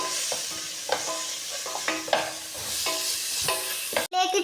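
A spoon scrapes and stirs a sizzling ginger, garlic and green chilli paste in a pan for biryani, with repeated close, uneven scraping strokes over a steady frying hiss and no talking.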